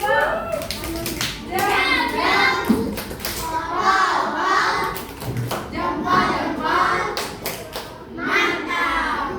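Schoolchildren in a classroom clap in short, rhythmic bursts, with pauses between rounds and children's voices mixed in.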